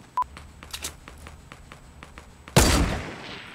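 Fortnite gameplay with a series of faint, evenly spaced clicks and small taps, then one loud close gunshot blast near the end that trails off into a short rumbling decay.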